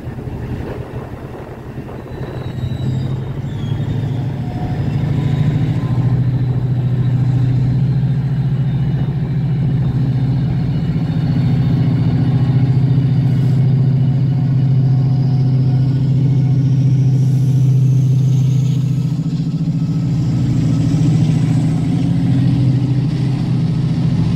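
A train engine of about 3,500 horsepower idles at Leamington Spa. A deep, steady diesel rumble holds loud and close throughout, with no break in the drone.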